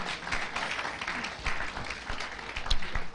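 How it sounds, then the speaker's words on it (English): An audience applauds the speaker at the Ethical Living Project grand finale, a steady wash of many hands clapping at moderate level, briefly and without talk. "Please give her a round of applause once again"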